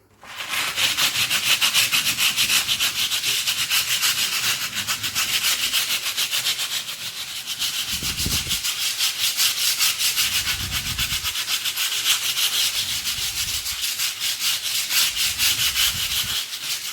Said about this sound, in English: So you need to sand it down so it's as flat as possible